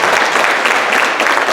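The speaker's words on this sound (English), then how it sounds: "all of you deserve a big round of applause" Audience at an empathy and transformative justice event breaks into loud, close applause, a thick continuous patter of many hands with a slight crowd murmur underneath.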